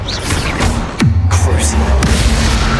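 A Confringo blast spell goes off in the Hogwarts Legacy video game: two sharp, loud bursts about a second apart, each trailing into a low rumbling boom, over steady game background noise.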